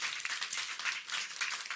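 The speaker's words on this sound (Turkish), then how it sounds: "Bir alkış istiyorum. Güçlü ama güçlü güçlü." Steady crowd applause, a dense wash of many hands clapping at once, continuous and fairly even throughout.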